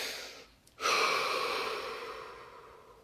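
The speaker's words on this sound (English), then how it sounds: "Take a deep breath." A slow, deep inhalation during a relaxation exercise, heard as a brief quiet pause followed by a long airy rush of breath that gradually fades, close and alone without talk.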